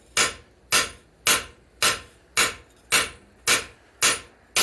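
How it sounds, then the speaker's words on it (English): Nine evenly spaced, sharp ringing hammer blows strike gray-hot mild steel while a tool is forged on an anvil, close and loud with brief decays between strikes. "when it's gray hot and you hammer it, it's going to make the molecular structure more compressed, because this is mild steel"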